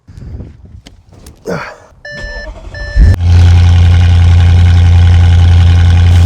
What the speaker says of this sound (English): Okay, the RPM is dropping. We're going down in idle speed.